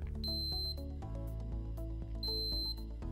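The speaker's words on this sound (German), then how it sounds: "Der Batteriealarm zeigt an, dass die Pumpe an das Stromnetz angeschlossen werden muss." A Flocare Infinity enteral feeding pump sounds its battery alarm, a pair of high electronic beeps spaced about two seconds apart over a steady low tonal hum.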